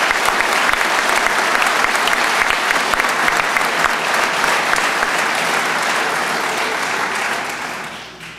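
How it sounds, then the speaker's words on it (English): Dense, loud applause from a large audience at a police academy graduation ceremony for Lackawanna College's class, sustained steadily before tapering off at the end. "How about a round of applause for all of Class 240?"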